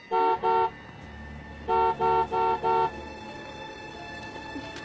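A car's horn honks twice, then four more quick beeps follow in a rhythmic pattern, clear and nearby over a low idling engine rumble, with no one speaking.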